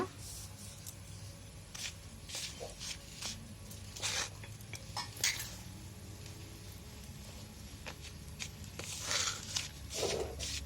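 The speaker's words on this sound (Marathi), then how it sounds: "आता पीठ आणि रवा आहे ना असं मिक्स करायचा." Semolina and flour are stirred together in a bowl for a rawa halibut fish fry, producing irregular scraping and rustling bursts at close range over a low background hum.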